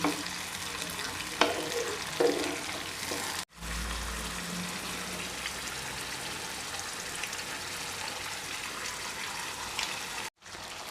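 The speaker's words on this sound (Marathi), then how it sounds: "याला छान तेल सुटेपर्यंत आपल्याला हे भाजायचे आहे" Momo chutney paste fries in oil in a pan, a close continuous sizzle with occasional spatula stirs and taps, interrupted by two brief silent cuts, no voices.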